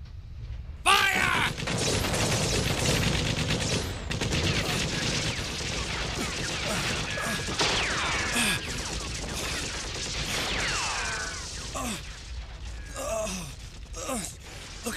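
A sustained gunfire volley in a dubbed action film, dense overlapping shots with mechanical clatter and whooshing effects throughout, loud and continuous with some vocal sounds mixed in.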